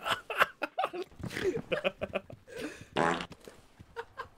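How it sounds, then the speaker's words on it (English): Repeated comic fart sounds from a mod in the Content Warning video game, a string of short sputtering blasts and one longer raspberry-like burst, close and loud, mixed with laughter and excited voices. "Don't fart on me!"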